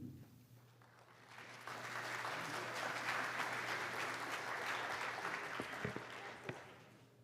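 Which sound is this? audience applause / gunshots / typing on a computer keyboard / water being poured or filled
audience applause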